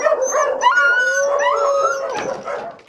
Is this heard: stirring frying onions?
no